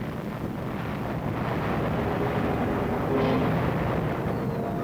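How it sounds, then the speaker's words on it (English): An ammunition dump explodes in wartime Korea, heard as a continuous dense roar of thundering rumble and crackle, loud and unbroken throughout. "An ammunition dump goes up, thundering and crackling as it illuminates the sky with a spectacular display of fireworks."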